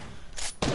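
Gunfire in the Fortnite video game, two broadband bursts cracking out in quick succession over a busy game background, the second louder and closer than the first.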